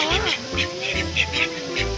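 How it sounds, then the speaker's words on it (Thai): Several short duck quacks in a quick series, close by at an open zoo, with a person's voice mixed in among them. "เป็ด"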